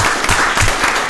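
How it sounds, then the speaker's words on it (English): A short burst of dense hand clapping from a group at a city council meeting, fairly loud and continuous for about a second. "I'm going to give you a hand clap"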